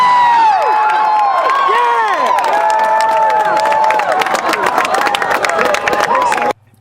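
Large crowd cheering, shouting and whooping at a Falcon Heavy rocket launch, loud and sustained with overlapping high-pitched yells and scattered clapping, cutting off abruptly at the end.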